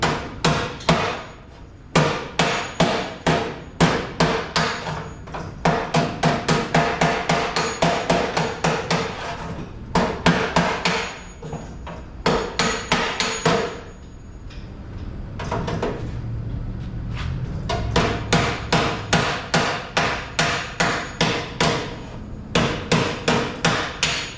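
Rapid hammer blows ring out on the sheet metal of a 1948 Chevrolet 5-window truck door in long bursts, sharp and close, with brief pauses between rounds of strikes.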